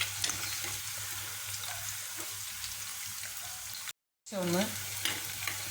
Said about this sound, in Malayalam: എണ്ണ ചൂടായി സവാള ഇട്ട് കൊടുക്കാം.